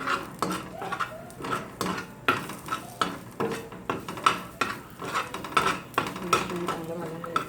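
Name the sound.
roasting and stirring ginger garlic in a pan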